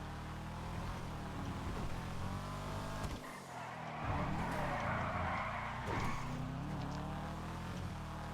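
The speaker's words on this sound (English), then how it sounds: "Let's listen to the engine." A Karin Calico GTF, a 90s Toyota Celica GT4-style rally car in a GTA video game, revs hard with a steady engine drone, a brief drop around the middle, then renewed throttle with tire squeal.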